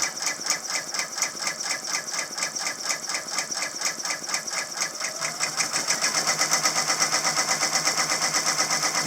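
A new Brother embroidery machine stitches a design onto a shirt with a rapid, even mechanical chatter of needle strokes, close and steady, growing slightly louder and busier in the last few seconds.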